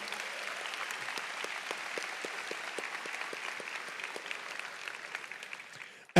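A high school graduation crowd applauds their families in a large hall, a steady, fairly soft, distant patter of many hands that continues evenly before a sharp noise at the very end.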